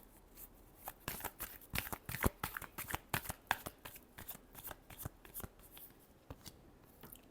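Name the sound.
shuffling tarot cards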